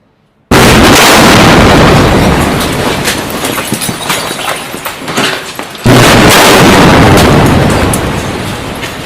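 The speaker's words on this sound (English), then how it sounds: "This is a bomb." Bomb blast in Gaza, played from a recording: a loud, sudden broadband boom erupts and rumbles on, then a second heavy blast hits about five seconds later, with no talk over it.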